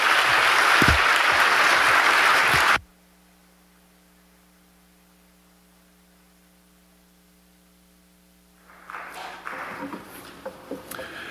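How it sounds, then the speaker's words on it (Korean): Church congregation clapping at a 40th anniversary service to welcome two families, with loud applause for the first few seconds, then an abrupt cut to near-silent electrical hum, then faint scattered clapping returning at the end. "여러분 큰 박수로 이 두 가정을 환영해 주시면 감사하겠습니다."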